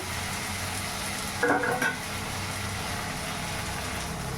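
Yogurt goes into a hot pan of pointed-gourd curry, giving a steady close sizzle of frying with a brief clatter of stirring partway through.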